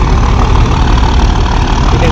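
A ship's engine drones loud and steady at close range, a dense low rumble with constant mechanical noise and no clear breaks.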